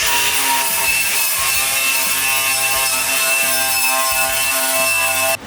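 Steady, harsh grinding or cutting on car body sheet metal while spot welds are drilled and cut out, a continuous loud close-up whine with a rough texture that holds for several seconds, then stops abruptly at the end.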